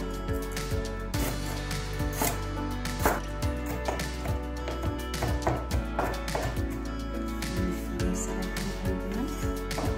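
Knife finely slicing lemongrass on a cutting board, a run of quick, close, sharp taps in an uneven rhythm over a steady tonal background hum.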